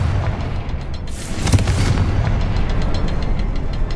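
Explosive blast from the Confringo fire spell in the game Hogwarts Legacy, a sharp boom bursting out around the middle and then rumbling in a dense, continuous roar to the end, loud and close.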